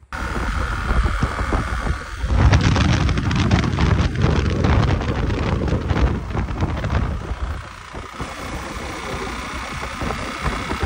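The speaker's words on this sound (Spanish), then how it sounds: "alcancé a llegar aquí a Santa Marta con ese ruido del motor impresionante" Motorcycle with a damaged engine ridden toward Santa Marta, making a loud abnormal rattling engine noise under heavy wind rush, swelling to a harsh peak midway and then easing back.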